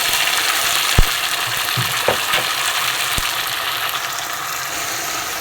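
Ginger garlic paste sizzles and fries in hot oil with browned onions, a loud, steady crackle close by, broken by a few sharp clanks of a spoon stirring against the pan.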